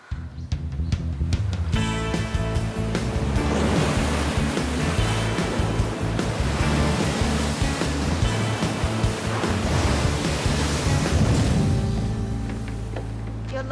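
Ocean surf rolls and breaks on a beach, a loud continuous wash of noise that swells and holds without pause, with no voices heard.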